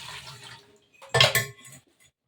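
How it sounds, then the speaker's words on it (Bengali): Dishes being washed by hand in a cold winter kitchen, a short clatter of pots and utensils knocking together with a splash of water, close and brief after a quieter stretch. "বাসন ধুতে গেলে হাতে করেই ধুতে হবে, হাতে করে বাসন ধোয়া ছাড়া কোনো উপায় নেই।"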